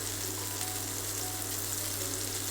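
Meatballs fry in a hot pan, giving a steady, dense sizzle and crackle that stays close and even throughout, with no voices.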